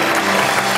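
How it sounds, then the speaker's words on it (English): An audience at a scientific award ceremony applauds in a brief, dense burst of clapping that fills the hall evenly and loudly, with no pause or break. "Please applaud Joseph Zettler, Atmospheric Sciences,"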